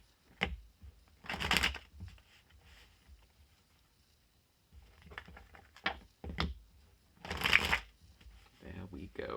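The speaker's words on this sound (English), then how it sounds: "I was told to shuffle 3 times." Tarot cards being shuffled by hand in a few quick, crisp bursts of riffling with short pauses between, close and fairly quiet, with brief low noises in the gaps.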